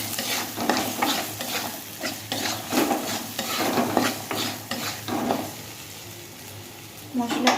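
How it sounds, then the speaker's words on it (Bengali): Ground cumin and coriander masala being sautéed in a pan, a spoon scraping and stirring in steady repeated strokes over a continuous close sizzle of frying spice. "মশলাটাকে কষিয়ে নেব।"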